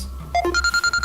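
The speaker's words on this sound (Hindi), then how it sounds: "बेल की आवाज, ये आवाज कहाँ से आ रही है?" A phone rings with a short, bright electronic bell tone, a rising run of notes followed by rapid repeated pulses, clear and close in a quiet room.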